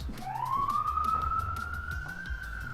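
A police siren wails in one long rising and then steady tone, fairly loud against a low background rumble.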